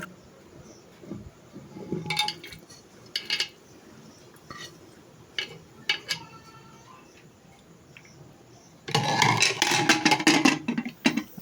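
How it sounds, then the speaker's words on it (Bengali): Food being tipped into a pressure cooker, with scattered metallic clinks and scrapes of pot and utensil in short bursts and a louder clattering stretch near the end. "এটাকে সিদ্ধ করার জন্য প্রেশার কুকারে ঢেলে দিচ্ছে যাতে দ্রুত সিদ্ধ হয়ে যায়"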